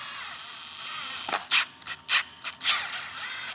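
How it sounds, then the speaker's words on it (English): An impact gun driving in the bolts on a Corvette engine's cam retaining plate, giving several short, loud, close bursts of rapid hammering with brief pauses between them after a quiet start. "So we'll get these bolts started. I'll draw this in with the gun."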